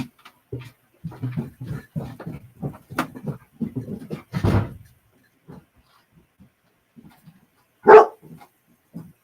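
A dog barks and whimpers in a run of short, close calls during a thunderstorm, then goes quieter before one loud, sharp bark near the end.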